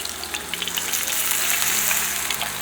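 Burger patties frying in a pan, a loud, steady sizzle and crackle close up that continues throughout with no break.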